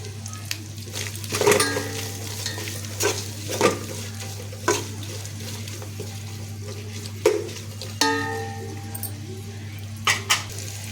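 Spices tempering in hot oil in a home kitchen, a steady sizzle broken by sharp clinks and scrapes of a utensil against the pan at irregular intervals, with a voice talking now and then.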